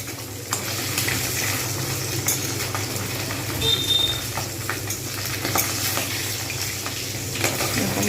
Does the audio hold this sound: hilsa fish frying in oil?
yes